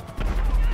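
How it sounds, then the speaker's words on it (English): Rapid explosions from RPG rockets hitting cars stuck in traffic in the video game GTA 5, a dense rumbling burst of booms with crackling debris, loud and continuous, with a voice faintly present underneath. "Okay, those are big booms."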